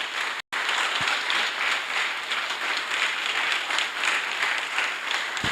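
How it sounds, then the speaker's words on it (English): A crowd at a public speaking event claps loudly and steadily to welcome a speaker to the stage, sustained applause from many people broken only by a momentary cut near the start. "With a round of applause."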